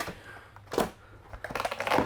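Soft rustling and crinkling of packaging while unboxing a ready-to-run VRX RC buggy, in irregular bursts that grow busier toward the end, close and fairly quiet.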